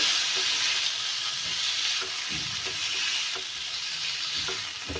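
A spoon stirs spices with soy sauce and lemon juice in a hot frying pan, giving a steady close sizzle with soft scraping strokes throughout and no talking.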